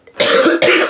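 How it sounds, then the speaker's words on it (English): A person's bad cough: two harsh, loud bursts in quick succession, close to the microphone, with no talking over them. "It's not the flu, but I have a bad cough."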